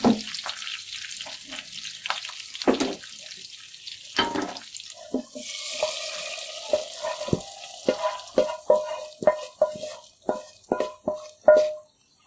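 Hot baghar tempering poured into cooked masoor dal, giving loud bursts of sizzling and spluttering with clattering, then a run of sharp repeated pops and crackles growing louder toward the end, no talking.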